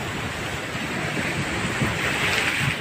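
Steady roar of ocean surf breaking on rocks at a beach in Ambon, with wind rushing across the microphone, continuous and fairly loud, no voices.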